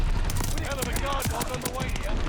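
A BAR automatic rifle fires in rapid bursts in the shooter Call of Duty: Vanguard, loud close-up rattling shots over continuous game noise, with someone talking over part of it.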